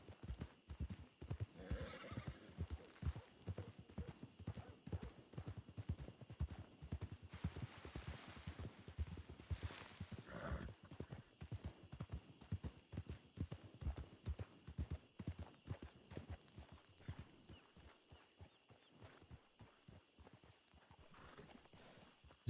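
A horse in a Red Dead Redemption 2 roleplay, with a steady run of clip-clop hoofbeats throughout, fairly near, and a whinny breaking in partway through over a faint background hum.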